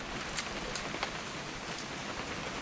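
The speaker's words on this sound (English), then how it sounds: "It's gonna rain the whole weekend, isn't it?" Steady rain falls in a video game scene, a continuous dense hiss of drops on surfaces with a few slightly louder patters, even and fairly faint, no voices.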